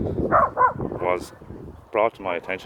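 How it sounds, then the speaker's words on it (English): A dog in a woodland garden gives a few short barks and yips scattered among a man's speech, close and moderately loud. "That's the dog scaring away anything that's going to attack us."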